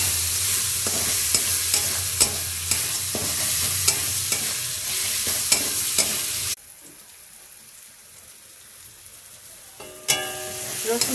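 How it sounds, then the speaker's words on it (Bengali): Garlic paste fries in oil in a home kitchen pan, a steady broadband sizzle with repeated spatula scrapes and taps for about six seconds, then it drops to a quiet hiss before a brief clatter near the end. "রসুনটা একটু মেরে ছেড়ে ভেজে নেব"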